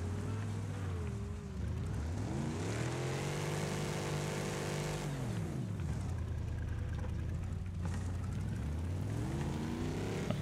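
A car engine revs and whines in Wreckfest on Xbox Series X, pitch rising and falling steadily as the motor is pushed hard, loud and continuous.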